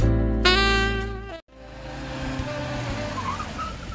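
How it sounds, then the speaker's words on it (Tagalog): Richard's car drives close by, its engine loud and rising in pitch as it revs, then a sharp cut before a rougher stretch of engine and road noise with a faint tire squeal, no voices. "Isu ti rimor iti kotse."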